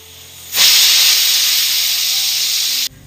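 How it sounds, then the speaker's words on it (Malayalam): A pressure cooker cooking onions lets off one sustained, loud hiss of escaping steam that starts abruptly, holds steady for more than two seconds, and cuts off sharply. "കുക്കർ മൂടി വെച്ച് മീഡിയം ഫ്ലെയിമിൽ ഒറ്റ വിസിൽ കേൾക്കുന്നവരെ ഇതൊന്ന് വേവിച്ചെടുക്കാം"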